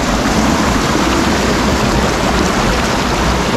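Strong river current rushing, a dense, constant roar of flowing water close by, with no talk.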